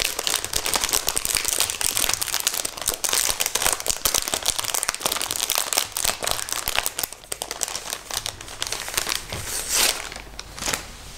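Paper crinkling and tearing as a package sealed with washi tape is carefully opened, dense close rustles and crackles running continuously for several seconds without speech.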